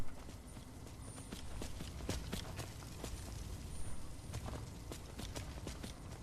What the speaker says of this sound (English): Is that Arvak? I think we found a horse.